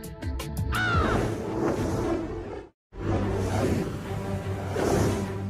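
Several crows caw in loud, harsh bursts that run almost continuously, broken once by a brief silence before the calling resumes.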